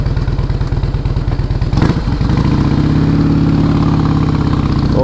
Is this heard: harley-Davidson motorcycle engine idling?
yes